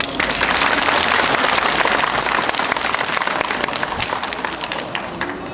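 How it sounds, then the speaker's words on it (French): An indoor audience applauds the prefect's chief of staff at a temple ceremony in Évry, dense steady clapping from many hands that fades slightly toward the end. "que nous vous prions d'applaudir"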